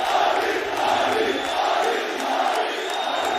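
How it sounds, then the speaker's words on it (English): A large arena crowd roars and cheers steadily through a Valorant esports match between DRX and FunPlus Phoenix at VCT Champions Istanbul 2022, a dense continuous wash of voices. "They are cheering his name."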